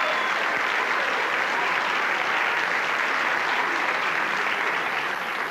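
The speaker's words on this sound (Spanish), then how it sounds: "se aplaude" A comedy-show audience in a live stand-up setting breaks into steady, dense clapping that stays loud and close throughout, with no voices rising above it.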